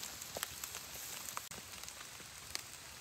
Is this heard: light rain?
yes